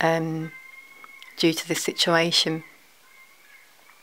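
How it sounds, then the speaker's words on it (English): Seagulls cry outdoors as they fly past, giving a few harmonic, mewing calls heard from indoors. A person talks over and between the calls. "I don't know if you just heard the seagulls outside."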